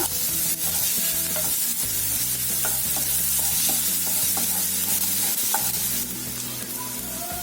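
Ginger garlic paste frying in a pan for bhindi masala curry, a steady sizzle broken by repeated scrapes and clicks of stirring, with a low hum beneath and no voices.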